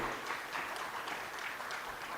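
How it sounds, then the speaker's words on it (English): An audience claps for partners from the China Society of Engineering at an official partnership launch, a soft, even spread of applause heard from some distance, fairly quiet throughout. "A round of applause for them."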